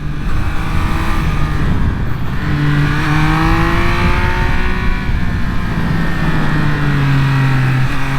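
A 2023 Triumph Speed Triple 1200 RS motorcycle revs loud and close, its engine pitch rising and falling in repeated sweeps as it accelerates through the gears.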